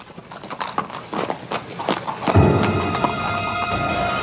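Horse hooves clip-clop steadily at close range, a rhythmic run of sharp knocks that grows louder and denser partway through, with no talk over it.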